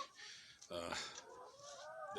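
Chickens cluck and squawk close by in short, overlapping calls, with a faint voice in the background.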